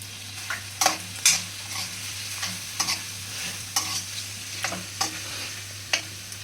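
Chili powder being stirred into a sizzling mix of boiled potato and sago for fasting-day khichdi: steady frying hiss with repeated sharp spoon scrapes and clacks against the pan, close and clear.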